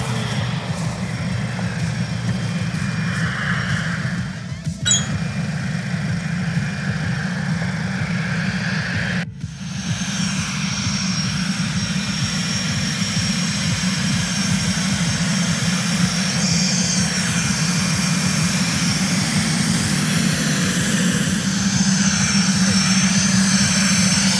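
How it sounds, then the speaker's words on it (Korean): A T-50 jet trainer's engine roars steadily and loudly close by while taxiing onto a taxiway, a continuous whining rumble with brief dips. "저기 말씀하는 순간 T50 택싱을 해서 유도로로 나오고 있습니다"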